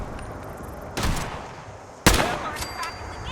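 Two loud gunshots in Fallout 4, sharp sudden blasts about a second apart over ambient game noise, the second followed by a faint metallic ring.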